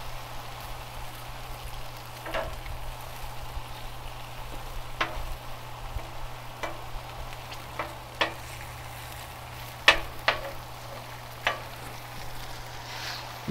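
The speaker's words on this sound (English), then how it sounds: "Bologna doesn't take that long to fry on each side" Slices of bologna fry on a hot Blackstone flat-top griddle, a steady close sizzle and hiss with scattered pops and crackles over a constant low hum.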